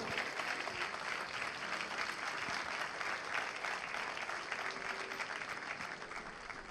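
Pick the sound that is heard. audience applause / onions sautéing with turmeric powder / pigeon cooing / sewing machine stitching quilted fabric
audience applause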